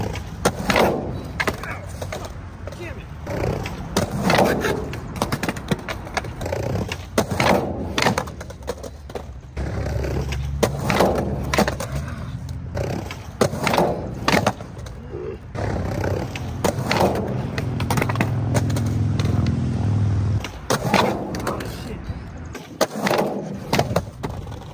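A skateboard rolls over street pavement and through a ride-up-to-fakie trick, giving loud, near wheel rumble broken by sharp clacks and board impacts, with short quiet gaps between runs.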